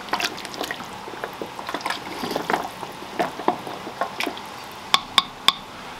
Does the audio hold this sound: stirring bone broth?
yes